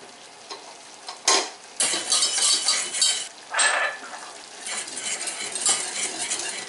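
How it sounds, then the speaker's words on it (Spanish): Flour is toasted and stirred in a pan for a stuffed Christmas hake dish, heard as bursts of scraping and metallic clinks from the utensil over a light, continuous sizzle. "Tostamos un poco la harina."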